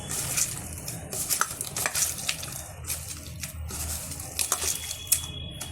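Young jackfruit being mashed and squeezed by hand for fritters, giving a steady wet squelching and stirring sound close up, with soft sticky slaps recurring throughout and no talking.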